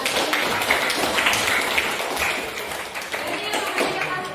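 Classroom audience clapping during a lesson, a noisy patter of many hands that runs for several seconds with voices talking over and around it.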